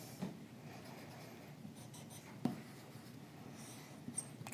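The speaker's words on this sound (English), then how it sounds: "I will first write." Chalk or marker scratching across a board during an engineering lecture, continuous faint strokes with a few sharper taps, over steady room hiss and no speech.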